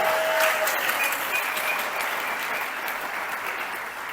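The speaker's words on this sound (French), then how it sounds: "Applaudissez pour ça." Steady, dense audience applause at a business presentation, a continuous loud wash of many hands clapping at once that lasts the whole stretch without breaks.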